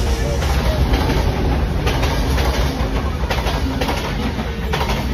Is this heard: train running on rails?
yes